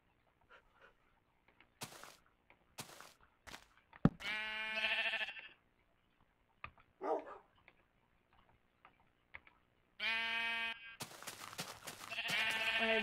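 Sheep in the Minecraft video game bleat in several drawn-out, buzzy calls spread across the stretch, loud and close, between sparse sharp clicks and taps with no talking.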